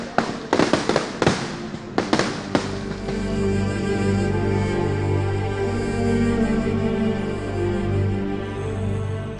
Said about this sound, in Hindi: पुतिंगल देवी के मंदिर में आतिशबाजी की परंपरा है।